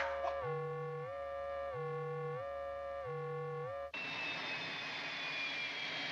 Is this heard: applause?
no